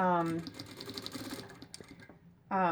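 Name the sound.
sewing machine back stitching face mask elastic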